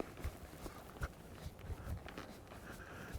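A big, heavily muscled horse moves under a rider at a walk, its hoofbeats landing as soft, fairly regular thuds at close range with no voices over them.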